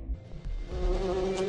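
Bees hum in a puppet show trailer, a brief droning buzz that settles into a steady tone, fairly close and alone.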